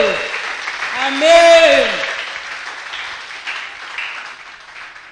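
A church congregation applauds during a sermon, with sustained clapping underneath while a preacher's voice calls out over it.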